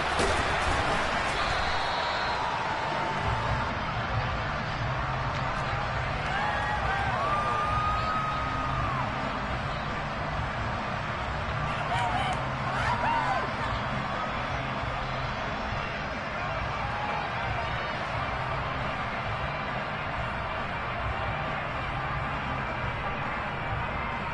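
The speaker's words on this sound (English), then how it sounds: "Combined with this crowd noise, makes it very difficult to run offense." Loud, steady roar of a stadium crowd at a football game, a dense wash of noise that barely varies for the whole stretch, with a few faint whistle-like tones rising above it.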